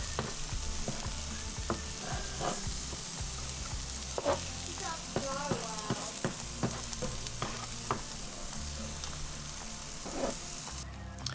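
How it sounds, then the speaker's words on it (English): Okonomiyaki pancake with vegetables sizzling steadily on a hot griddle, a dense continuous fry with occasional scrapes and taps of spatulas, faint background voice and music underneath. "As the vegetables cook, gently press down the pancake."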